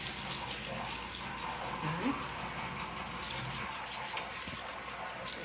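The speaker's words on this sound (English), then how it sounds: "just use the nozzle to spray it off" A sink nozzle sprays water steadily for rinsing in a decontamination area, a loud continuous hiss and splatter that holds for the whole stretch with faint clunks, no talking.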